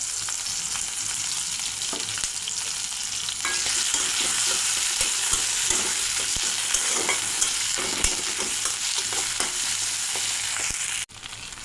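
Spices tempering in hot oil in a pan, with bay leaf, whole cumin and dried chillies, crackling in a loud continuous close sizzle, with occasional stirring clicks and a sudden drop near the end.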